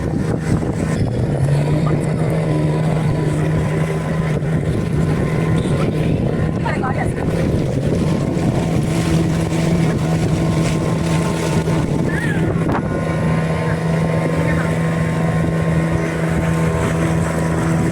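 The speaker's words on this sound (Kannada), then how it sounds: "ಫಿಶಿಂಗ್ ಬೋಟ್ಸ್ ಎಲ್ಲ, ಫಿಶಿಂಗ್ ಬೋಟ್ಸ್" Fishing boat engines drone steadily and loudly near the water for the whole stretch, a low continuous motor hum with passing rumbles, while a person talks over it.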